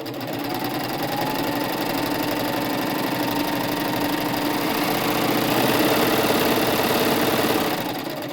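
A sewing machine runs continuously, stitching a long fabric strip into a drawstring backpack strap, its rapid needle clatter steady and close before easing slightly at the end.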